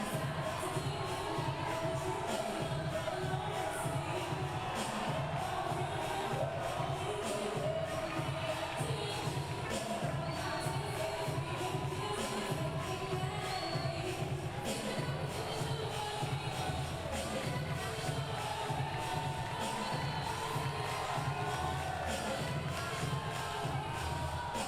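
A Brazilian crowd fills the arena at a Paralympic judo event in Rio 2016, a steady dense roar of murmuring, cheering and scattered shouts that holds at an even level throughout.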